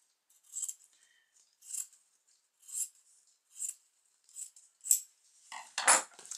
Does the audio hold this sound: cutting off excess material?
yes